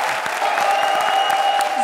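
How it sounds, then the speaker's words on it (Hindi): A studio audience on a TV comedy show bursts into steady, dense applause that fills the whole moment, with a sustained tone ringing beneath the clapping. "जोरदार तालियां राजीव और सलोनी के लिए।"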